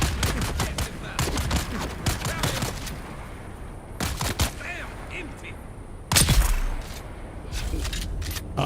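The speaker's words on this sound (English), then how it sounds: "I do love that rifle." Rifle gunfire in the survival game Dune: Awakening, rapid bursts of sharp shots in quick clusters with a heavier blast near the end, amid combat noise and brief talk.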